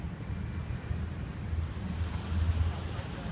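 Waves on a beach at night in Nha Trang: a low, rumbling wash of surf mixed with wind buffeting the microphone, continuous and moderately loud with slight swells in intensity.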